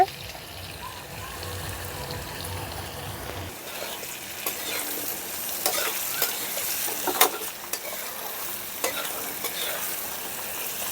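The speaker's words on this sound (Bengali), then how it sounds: "এখন হলুদ আর লবণ দিয়ে আর একটু ভেজে নেব আলুটাকে" Potatoes fry in a pan with turmeric and salt while cooking rui fish curry. Soft continuous sizzling runs under repeated scraping and clicking stirring sounds.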